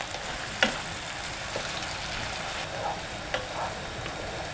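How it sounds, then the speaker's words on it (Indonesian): Chopped garlic and ginger sautéed in oil for homemade beef teriyaki, a dense continuous frying hiss with a few faint spatula taps, close and steady, no talk. "Kemudian bawang putih cincang, jahe. Ini kita tumis dulu sampai harum ya."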